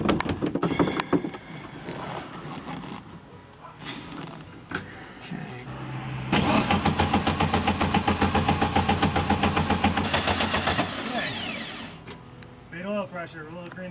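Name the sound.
classic Volkswagen Beetle engine starting after 20 years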